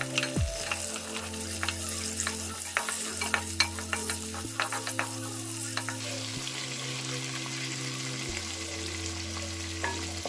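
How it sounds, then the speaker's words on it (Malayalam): Green chillies and ginger fry in a pan for a prawn ghee roast, making a close, continuous sizzle with stirring scrapes throughout and sustained tones underneath. "ഇനിയിപ്പോൾ നമുക്ക് പച്ചമുളക് ഇട്ട് കൊടുക്കുന്നു."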